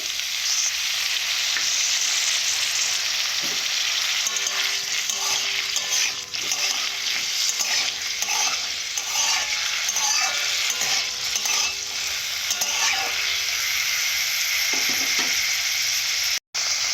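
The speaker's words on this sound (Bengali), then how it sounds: "তার সঙ্গে বিনসগুলো ভেজে নেবো" Beans and vegetables frying in a pan for fried rice, a loud, dense sizzle and crackle close by, with occasional stirring clatter throughout.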